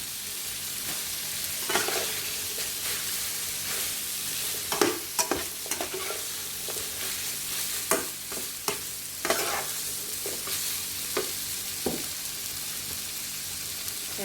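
Rice stir-fried in a wok for salmon fried rice, with a steady sizzle throughout and repeated scraping, clacking spatula strokes, close and alone.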